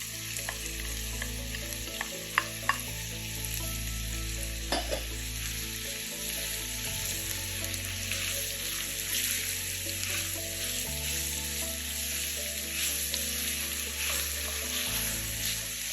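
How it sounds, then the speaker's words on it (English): Onion fries in oil for Cajun garlic shrimp pasta, a loud continuous close sizzle with a few brief clicks of stirring and a low steady hum underneath. "Now we add in the onion."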